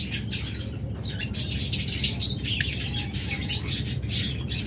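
A pair of violet opaline pet birds call nearby with rapid, repeated squawks and chirps, a busy overlapping chatter with no pauses.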